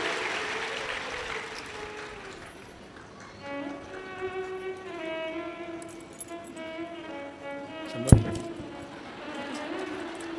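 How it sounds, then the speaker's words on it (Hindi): An audience claps during a Shiv Mahapuran religious discourse in Jaipur. The applause is moderate and spread out, mixed with sustained music or chanting tones and a sharp clink near the end. "एक बार जोरदार ताली बजा।"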